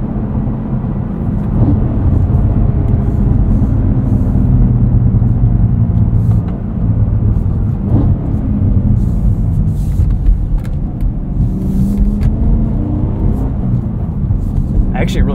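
Low, steady engine and exhaust rumble from a 2024 Cadillac CT5-V Blackwing on the move in a higher sport or track exhaust mode, heard from inside the car as a loud continuous drone with someone speaking over it.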